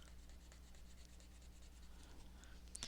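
Soft, steady scratchy strokes of a Crayola Twistables crayon rubbing across paper over a red layer, close and quiet, with a sharper tap near the end.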